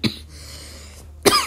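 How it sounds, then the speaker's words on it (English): A person coughs twice, one short sharp cough at the start and another near the end, close and fairly loud with a quiet gap between them. "Sorry for the cough."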